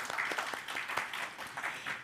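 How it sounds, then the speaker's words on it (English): A church congregation gives a round of applause during a Sunday service, a soft, fairly distant wash of clapping that holds steady for a couple of seconds. "He's getting an applause because it's outstanding."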